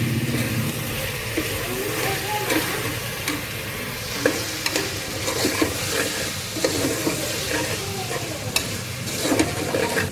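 Rice seasoned with salt and turmeric is stirred in a pan for coconut rice, a steady close sizzle with repeated scraping strokes of a spoon against the pan throughout.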